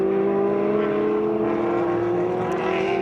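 An original SCCA B-modified Monsterati sports racing car runs on a road course, its engine holding a steady, sustained drone at moderate distance with no talk over it.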